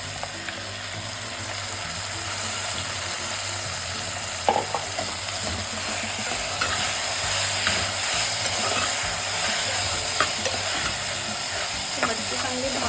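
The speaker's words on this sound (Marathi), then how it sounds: "आता ही घालून घेऊया आणि चांगली भाजून घ्यायची" Sprouted matki roasts in a pan with a steady dry sizzle and rattle, and a few scraping knocks from stirring sit over a constant hum.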